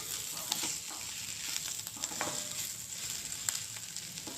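Bitter gourd fry sizzles in a pan on the stove, a soft steady frying hiss with occasional crackles and light stirring taps, faint and close, with no talk.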